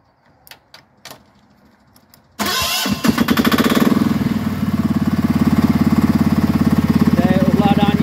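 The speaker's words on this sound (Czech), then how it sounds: "Spouštění je klíčkem." A few light clicks and rattles of a key, then the small engine of a 940 kg Baugarden BG900 mini excavator cranks, catches and settles into a loud, steady chugging idle close by.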